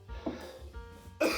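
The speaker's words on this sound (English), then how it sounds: "I'm being interrupted with coughing moments" Two short coughs, one early and a louder one at the end, from a person partway through a wet shave with a titanium safety razor, close to the microphone in a quiet room.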